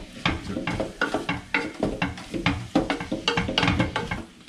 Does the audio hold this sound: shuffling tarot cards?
no